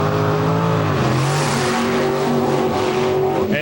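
Pro Stock drag racing cars with 815 cubic inch engines roar at full throttle in a loud, sustained blast at the track. The high-pitched engine wail fills the whole moment.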